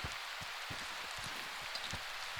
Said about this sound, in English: Oh, it's hailing though.